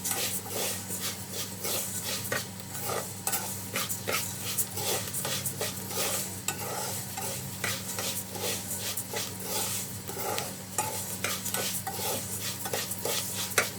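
Salted rice stirred and browned in a pan, a steady sizzle under constant scraping strokes of a spoon, close and continuous with no talking.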